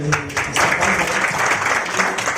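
An audience at a municipal gathering in Aurangabad claps in a loud, thick burst with uneven surges that lasts the whole moment.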